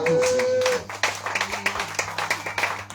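A church congregation at a deliverance and healing service claps to welcome the day's preacher, a dense run of hand claps rising after a sustained tone, with a sung or spoken voice over it.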